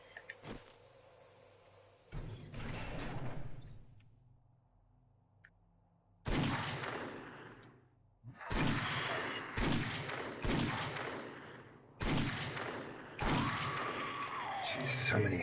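Gunfire cutting down zombies in the survival game 7 Days to Die: a quiet stretch, then repeated loud bursts of shots, some single and some rapid, with a sharp echoing tail.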